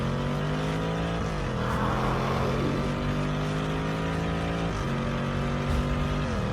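Car driving in the Minecraft video game, a continuous droning engine tone with several pitch shifts and revs, loud and steady throughout with no talking.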